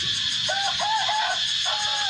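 Free-range chickens on a farm, raised naturally on low-cost feed without vaccines, give a run of short, rising clucking calls over a steady background hiss.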